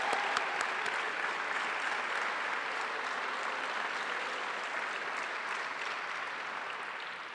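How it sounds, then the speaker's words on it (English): An audience at a school baccalaureate awards ceremony applauds the graduating class of 2024, with sustained, even clapping from a large crowd filling the room and easing off only slightly toward the end. "let's have one more round of applause for our whole class of 2024"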